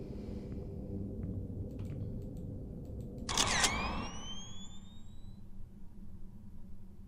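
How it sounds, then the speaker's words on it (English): A single brief camera shutter click sounds in the horror game Love, Sam, faint over a low droning hum and followed by thin rising whistle tones. "Don't pussy out, push the shutter."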